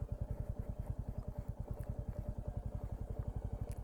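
A motorcycle descends a rough, damaged road on engine braking with the throttle closed, its engine thudding in a fast, steady low pulse close to the microphone, with faint rattles over the top.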